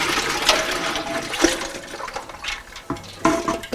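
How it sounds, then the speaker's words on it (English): Chilled water from the refrigerator is poured into a pot of brine for a smoked turkey, a gurgling, splashing rush of liquid with uneven surges and gulps, close and steady. "we're going to dump that mixture back into this pot"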